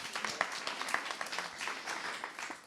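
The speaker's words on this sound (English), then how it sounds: "Can we give a round of applause for them?" An audience at a university livestream event claps, a faint, brief patter of scattered hand claps with a few sharper individual claps standing out.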